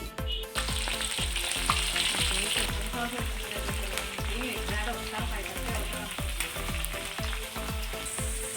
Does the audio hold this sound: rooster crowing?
no